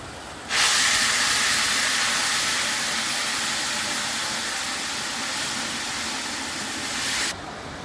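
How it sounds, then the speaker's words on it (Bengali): Hot water is poured into a pan of fried rice and pointed gourd, setting off a sudden loud steam hiss that holds steady for about seven seconds and then cuts off. "এবার আমি জল দিচ্ছি"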